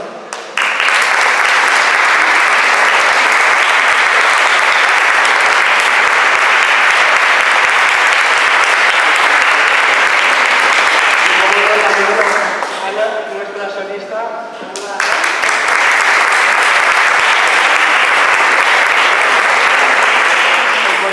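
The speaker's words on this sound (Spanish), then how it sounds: "quiero por favor un gran aplauso para el coro y los músicos" An audience at a choral zarzuela concert applauds the choir and musicians with loud, dense clapping that runs long, dips briefly while a voice speaks over a quieter patch, then swells back to full strength.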